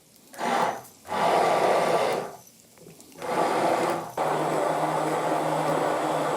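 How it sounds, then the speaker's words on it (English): A cordless immersion blender whirs in several bursts, starting and stopping, then running steadily near the end; close and fairly loud, with no talking. "just one of these cordless immersion blenders"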